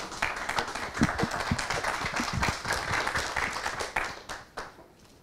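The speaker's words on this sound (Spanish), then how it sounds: "Fuerte aplauso." Audience applause at a formal presentation on Mexico's preferential tariff treatment under the EU trade agreement, a dense steady patter of many hands clapping for about five seconds, tapering toward the end.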